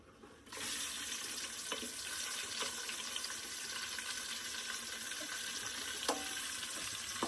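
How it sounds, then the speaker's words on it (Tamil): Onions going into hot oil for a home-cooked chicken biryani, a broad steady sizzle that starts abruptly and holds evenly, with a few faint clinks of a utensil against the pot. "வெங்காயத்தை நான் போட போகிறேன்"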